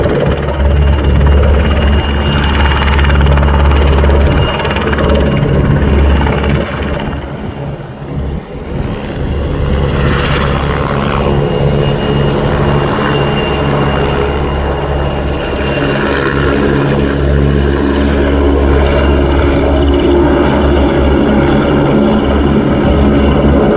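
Pair of Czech Sokol helicopters flying a climbing spiral at the RIAT air show, a loud continuous rotor and turbine roar that swells and fades slightly as they move, with no voices.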